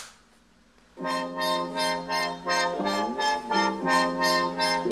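A sustained synth tone starts after a second of near silence, its brightness pulsing rhythmically as an envelope filter wobbles it, loud and steady with no talking.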